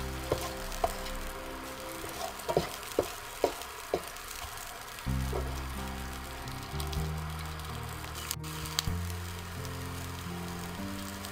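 Chopped onions and green chillies fry in oil in a pan for Bangladeshi egg chops, a faint steady sizzle with a few sharp clicks and taps, heard close with a low hum underneath.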